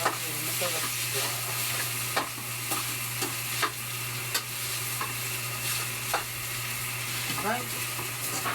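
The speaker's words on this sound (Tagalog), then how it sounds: "medyo sinasad ko yung bawang kasi masarap siya" Garlic sautéing in a frying pan for a simple breakfast, a constant close sizzle with spatula stirs and scrapes at irregular intervals, under a steady low hum.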